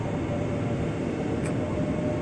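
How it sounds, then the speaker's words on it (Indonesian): An airport commuter train pulls out of Manggarai station in a continuous broadband rumble and rail hiss. The roar is steady and moderately distant, with a faint brief tone near the middle and no voices. "jalur 9-nya berangkat kereta api bandara"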